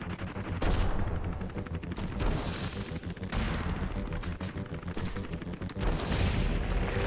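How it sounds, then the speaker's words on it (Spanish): Rapid bursts of gunfire and booming explosions from the video game Owlboy, shooting at a guided rocket, loud and nearly continuous, with brief pauses between volleys. "Le puedo disparar a ese cohete."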